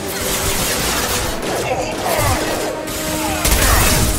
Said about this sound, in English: He's firing an impact gun